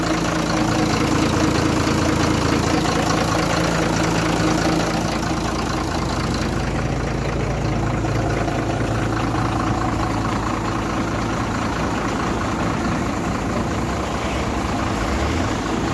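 A 2012 ten-wheel lorry's diesel engine idles close by, a loud, steady low rumble with a faint knocking texture that holds unchanged throughout, with no voices.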